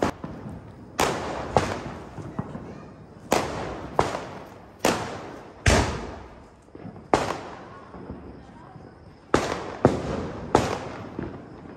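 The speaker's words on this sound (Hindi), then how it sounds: "तो गाइस पहला फटाका हम फोड़ रहे हैं, ये मजा आएगी आतिशबाजी करते हुए।" Loud Diwali firecrackers bursting nearby, about a dozen sharp bangs at irregular intervals, each with a brief crackling tail.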